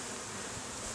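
Half a cup of honeybees buzzes inside a mason jar during a sugar roll varroa mite test, a dense, steady, close hum filling the whole moment.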